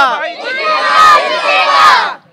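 Children in Ratnagiri, with a Chiplun cricket club, shout and cheer together for an Indian cricket win: a loud, close burst of many voices yelling in a chant-like rise and fall that drops away abruptly at the end.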